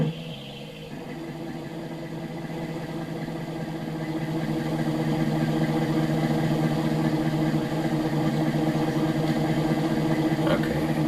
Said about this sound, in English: Just trying to carefully back this up into the garage here.